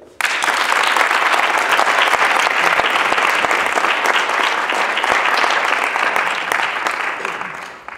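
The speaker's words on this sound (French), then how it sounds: "Vous avez tous été excellents et on peut vous applaudir." Loud, dense audience applause for student debaters at a debate event, starting abruptly, sustained evenly for several seconds, then tapering slightly at the end.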